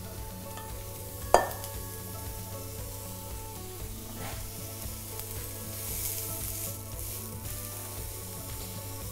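A small test piece of reindeer meatball mixture sizzles and hisses in a frying pan, a steady soft crackle with an occasional stir or scrape and one sharp clink, no talking.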